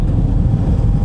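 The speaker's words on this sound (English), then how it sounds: "It sounds like maybe there's a wheel bearing on the way out, or maybe that is a bit of diff whine." A cheap used car with suspected wheel bearing or differential faults, heard as a steady loud low rumble and drone of road and drivetrain noise throughout, with no clear distinct whine standing out.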